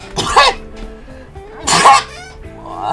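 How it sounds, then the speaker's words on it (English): Two sharp, forceful bursts from a person indoors, about a second and a half apart, each a loud explosive sneeze-like expulsion followed by brief quieter breathing. "Why did I sneeze?"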